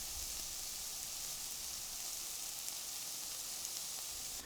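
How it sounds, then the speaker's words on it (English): Steady, dense hissing and crackling of onions frying in hot oil, continuous and close, with faint spluttering pops throughout. "creating that distinctive hissing and spluttering sound that we associate with frying"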